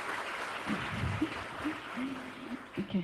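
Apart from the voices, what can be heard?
applause for the children who performed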